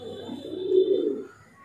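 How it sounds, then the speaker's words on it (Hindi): A single soft, throaty coo from a white pigeon, a seven-year-old high-flyer kabootar, heard close and alone, swelling and fading within under two seconds. "तो ये मेरा 7 साल पुराना कबूतर है, 7 साल से उड़ रहा है।"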